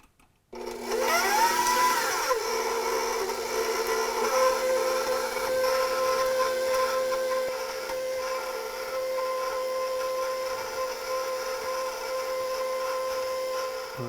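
An electric mixer churning a wonton filling with Parmesan cheese, starting abruptly with a rising whine, then settling into a steady, close motor drone that runs unbroken throughout.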